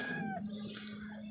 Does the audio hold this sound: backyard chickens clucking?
yes